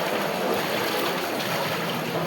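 A heavy downpour pounds a flooded residential parking area in Surat, making a dense, unbroken hiss that stays loud and steady throughout, with no voices.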